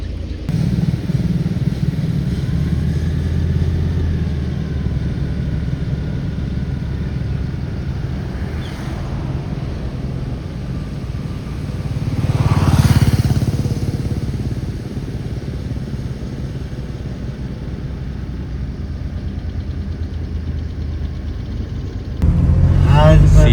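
Cars and other vehicles pass along a forest road on a Karnataka–Kerala route to Wayanad, a steady engine rumble swelling as one vehicle draws near around the middle, with another arriving at the end.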